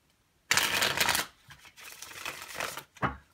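Tarot deck being shuffled by hand: a dense riffle burst of papery card flutter, then quieter shuffling strokes and a final short snap, close and alone with no voices.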